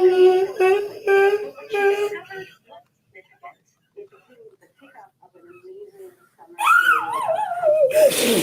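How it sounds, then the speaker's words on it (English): A dog whimpers and yelps in high wavering cries, loud and close, with a rising-and-falling whine near the end; a person talks at the start and the dog's sounds carry on under and after. "Did you hear the dog though?"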